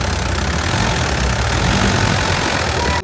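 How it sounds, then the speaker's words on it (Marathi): Tractor engine running hard while pulling out of mud, a loud, steady low-mid rumble with rough knocking texture, close and continuous, cutting off abruptly at the end. "दोन्ही ट्रॅक्टर लावून डायरेक्ट ओढून काढ"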